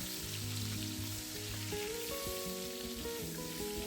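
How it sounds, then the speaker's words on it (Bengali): Boiled potatoes fry in hot white oil, a constant close sizzle with a scatter of small crackles and pops underneath. "আর যে আলুটাকে সেদ্ধ করে রেখে দিয়েছিলাম সেটা 2 থেকে 3 মিনিটের মতো ভেজে নেব।"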